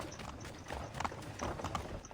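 A horse in the Assassin's Creed 3 video game gallops with quick, rhythmic clip-clop hoofbeats, faint and steady over a quiet background.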